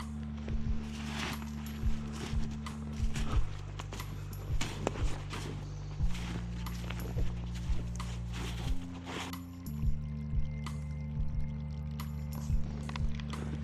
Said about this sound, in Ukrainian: такий струмочок вирішив нас трошечки провести.